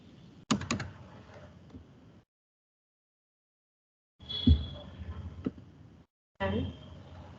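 Someone types Python code on a computer keyboard in quick bursts of close, clacking keystrokes, broken by stretches of complete silence.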